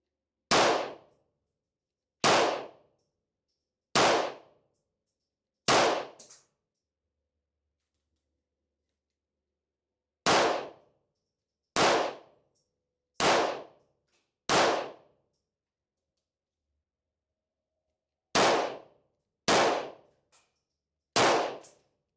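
Sharp gunshots fired at a shooting range from a handgun fitted with a MidTen tactical weapon light, eleven loud reports in separate bursts of four, three and four, each followed by a short decay and silence.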